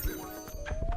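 A horse in a video game neighs once in a brief, rising whinny, fairly close and clear over a busy game soundscape.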